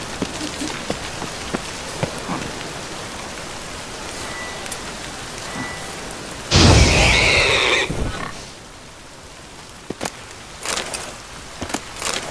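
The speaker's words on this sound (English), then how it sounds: "It just rains and rains." Steady rain patters down in The Witcher 3, a dense continuous hiss with a brief louder gust-like burst midway and scattered sharp drop ticks, no talk over it.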